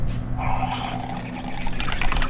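Water pours steadily into a coffee machine with a soft splashing hiss, over a low machine hum, near and moderately loud.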